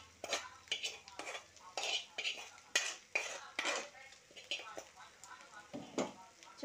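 Egg fried rice is stirred and tossed in a pan with a metal spoon, giving rapid, close scraping and clinking strokes in an irregular rhythm, with only faint sizzle underneath.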